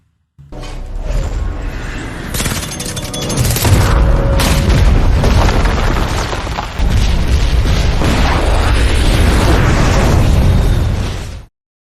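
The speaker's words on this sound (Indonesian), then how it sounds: "mereka pun membunuh semua orang yang tidak berkepentingan dan lalu meledakkan seluruh laboratorium tersebut beserta dengan isi-isinya" A laboratory blown up in a James Bond film, a massive roaring explosion that starts abruptly and sustains a loud rumbling blast with debris for about eleven seconds before cutting off.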